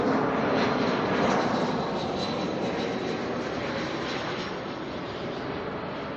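Air New Zealand flight NZ634 from Queenstown arrives at Auckland Airport, its jet engines a loud, steady broadband roar heard from close by that eases slightly toward the end, with no voices.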